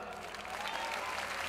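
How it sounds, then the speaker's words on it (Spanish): An audience at an outdoor rally breaks into sustained applause to welcome a speaker, a dense, even wash of clapping from many hands, moderately distant and steady throughout. "os pido que recibamos con un aplauso muy fuerte a Alejandra Prat"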